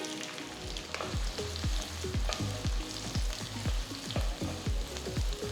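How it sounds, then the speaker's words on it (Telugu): Finely chopped onion fries in hot oil for kaju masala curry, a constant sizzle with a regular series of spatula scrapes and taps against the pan, close and fairly quiet, no speech. "బాగా ఫైన్ చాప్ చేసి దీంట్లో వేసేయండి."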